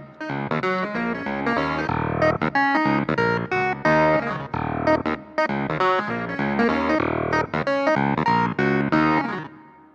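Keyboard playing a riff, with the left hand adding a simplified bass pattern under the right hand. The clavinet-like tone is bright, funky and percussive, has a slightly effected sound, and plays continuously with no talking.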